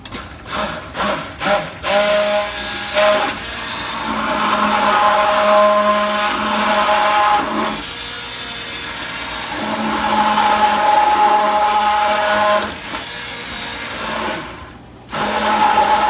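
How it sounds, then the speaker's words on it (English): A hand blender whirs steadily at high speed while mixing soap, its pitch dipping and recovering as it works, close by after a few clicks. "turn on the hand blender in it in just a minute"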